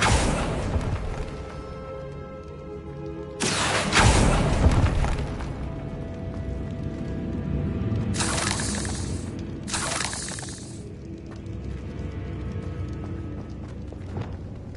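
Confringo blasting curse explosions in the Hogwarts Legacy video game: a loud burst near four seconds, then two sharper blasts around eight and ten seconds, over steady game music and ambience.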